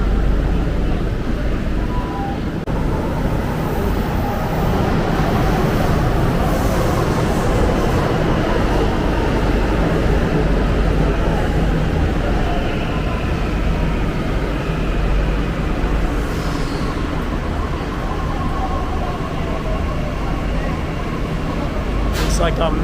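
A Delhi Metro train rumbles steadily alongside the platform, a continuous loud low roar with rattling wheels and a brief high squeal near the end.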